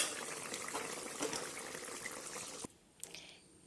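Chicken meat and white gourd boiling in a pot, a dense bubbling, watery rush that cuts off abruptly near the end, leaving a faint quieter tail with a single knock.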